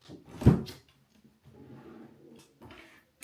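A makeup drawer gives one solid knock as it opens or shuts, followed by quieter sliding and rattling, with no one talking.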